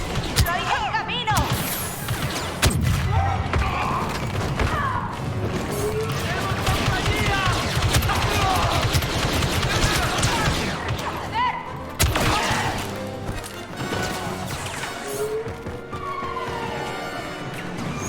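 A Star Wars Battlefront 2 battle gives a steady din of blaster fire and impacts under excited voices, dense and continuous with a brief break near the middle.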